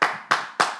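One man claps alone at a live comedy show, three distinct, fairly close hand claps in a steady rhythm, with no other sound around them.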